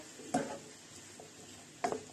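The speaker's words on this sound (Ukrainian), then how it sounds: "А зараз ми підсмажуємо грибочки для нашого пирога" Mushrooms for a julienne pie frying in a pan, a soft steady sizzle broken by two louder stirring scrapes near the start and end, close and with no talk.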